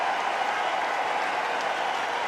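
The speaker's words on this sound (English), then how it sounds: "And his captain applauds him." Crowd applause at a T20 international cricket match between India and West Indies as a batsman reaches his first half century, a steady, dense wash of clapping and cheering that holds level throughout.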